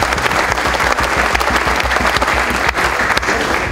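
A crowd at an award ceremony claps in sustained, dense applause, loud and even, many hands close by with no voices over it.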